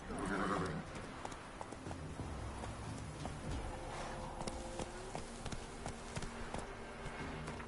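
In The Witcher 3: Wild Hunt, the horse Roach gallops with rhythmic, continuous clip-clopping hooves, and a whinny rises near the start.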